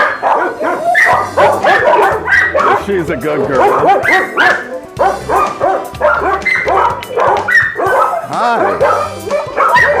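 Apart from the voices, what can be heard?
Dalmatian mix dog barking at an animal shelter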